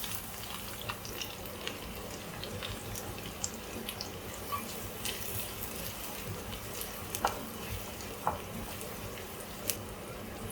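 Shallots and green chillies frying in a pan with fenugreek seeds, giving a steady, continuous sizzle with occasional small pops and crackles, fairly close and without talk.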